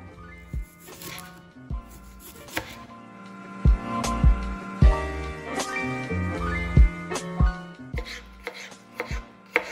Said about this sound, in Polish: Najpierw będziemy kroić cebulkę i czosnek.